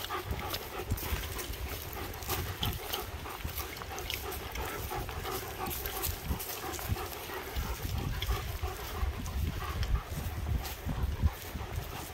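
A German shepherd dog sniffs around close up with quick, repeated snuffling bursts and panting, while rustling and footsteps move through the background.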